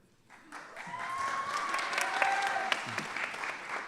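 An audience cheers and applauds for a contestant called up on stage at an evening show, with a burst of clapping that builds and holds, a few whoops and whistles rising above it.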